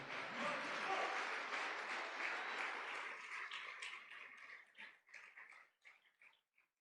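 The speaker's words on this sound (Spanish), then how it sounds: "¿Cuántos le dan palmas al Señor, iglesia?" A church congregation breaks into sustained applause, loud and dense at first, then thinning into scattered claps that die away one by one.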